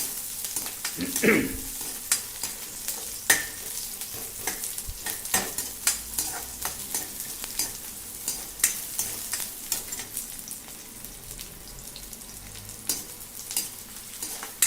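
Chopped onions and chilies frying in oil for a simple moong and masoor dal, a continuous close sizzle broken by repeated clinks and scrapes of stirring against the pan, with no talking.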